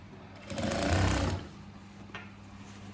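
A sewing machine stitches a patchwork ethnic bag, with a short close whirring run of under a second over quiet room hum, followed by a faint click.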